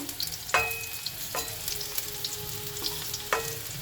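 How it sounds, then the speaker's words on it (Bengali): Cauliflower pieces frying in a wok, a steady close sizzle broken by a few sharp stirring clatters and scrapes, with no talking. "ফুলকপিটা একদম লাল লাল করে ভেজে নেবো"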